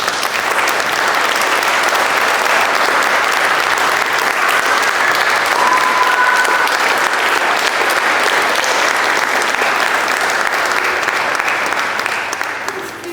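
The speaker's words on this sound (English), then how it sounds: "Please give him a round of applause." A large audience applauding after a speech at a public event, loud, dense and continuous clapping that holds steady for over ten seconds before beginning to fade, with faint crowd murmur underneath.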